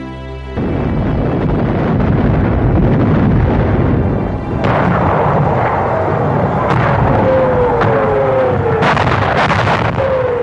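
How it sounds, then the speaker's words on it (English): Bombs falling and exploding: a loud, rumbling barrage of heavy blasts with whistling descending tones of falling bombs and sharp bursts punctuating the continuous roar. "bombs dropping from the sky and bursting all around"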